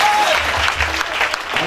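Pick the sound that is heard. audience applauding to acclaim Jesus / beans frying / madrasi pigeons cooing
audience applauding to acclaim Jesus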